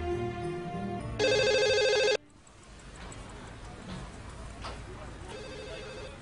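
A telephone rings in a home, its trilling bell sounding for about two seconds before cutting off abruptly, followed by faint room noise and quiet speech.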